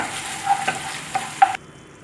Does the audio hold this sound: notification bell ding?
no